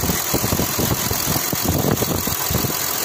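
A 2012 Kia Mohave engine idles after a tensioner replacement, a steady, close, even mechanical hum with a faint ticking texture and no audible squeal, running alone throughout.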